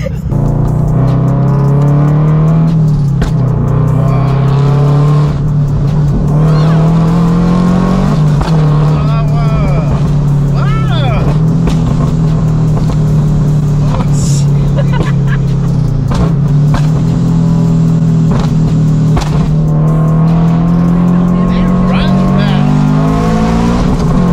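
A supercharged Scion FR-S revs hard from inside the cabin, its loud droning engine rising and falling with sharp exhaust pops and crackles, while people talk and react over it.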